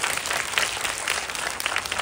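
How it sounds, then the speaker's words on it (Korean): A cinema audience at a film screening Q&A applauds steadily, a dense wash of many hands clapping at once, even in loudness throughout. "모든 감독님과 배우분들에게 먼저 박수 부탁드립니다"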